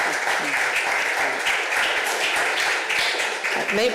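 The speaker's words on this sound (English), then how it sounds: "We can give applause to God" Audience applause at a village zoning hearing and foundation meeting, a steady, dense wash of clapping that fills the whole stretch at moderate loudness with no voices over it.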